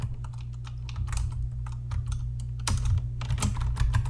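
Fast, uneven keystrokes clatter on a computer keyboard close up over a low steady hum, entering a property search for a Longboat Key mansion, with no voices.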